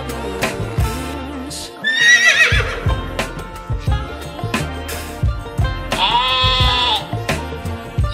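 A cartoon horse whinnies twice over a musical backing, each call a bright, wavering neigh rising and falling, the second longer and held near the end of the stretch.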